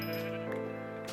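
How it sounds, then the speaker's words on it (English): A cow moos once in Minecraft, Xbox 360 Edition, heard as a single drawn-out tonal call that falls in pitch and is set inside a cave. "A cow in a cave."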